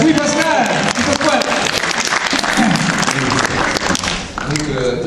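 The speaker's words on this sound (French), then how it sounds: "On peut l'applaudir très fort." An audience claps and cheers steadily throughout at the Fana Manga 2018 convention, loud and close, with voices talking over the applause.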